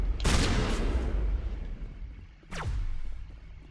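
Shotgun fire in the video game Mass Effect: two loud, close blasts about two seconds apart, each with a booming, reverberant tail. No voices.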